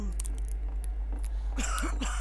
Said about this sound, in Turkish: Ne öksürüyorsun lan?